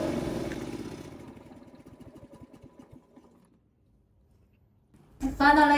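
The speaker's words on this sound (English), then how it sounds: "press this button to start the engine" A small gasoline engine on a VTLM600 remote-controlled mower putters and slows, its beat spacing out and fading into near silence before a voice speaks at the end.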